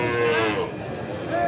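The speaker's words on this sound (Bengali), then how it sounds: "এই যে এই সাইজের বাছুরগুলো কিন্তু প্রচুর পরিমাণে আমদানি হয় এই হাটে" A calf at the Raniganj cattle market gives a single drawn-out, close moo that rises and then fades within a second or so.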